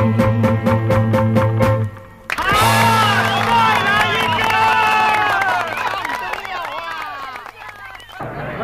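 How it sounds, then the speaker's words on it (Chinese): Applause and cheering from a live audience break out loudly after a sung stage performance, with a dense, sustained crowd roar following the fading music. "一阵掌声过后"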